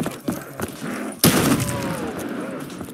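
Gunfire in a Black Ops 3 Minecraft zombies custom map, a muffled thump or two followed by a sudden loud blast that rings out and fades, game noise around it.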